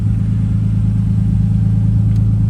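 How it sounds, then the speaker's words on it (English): A stock RB20 engine fitted with a Tomei exhaust idles steadily, a deep, even, close-up burble with a constant low hum and no talk over it. "Yeah, guys, like I said, RB20 singing."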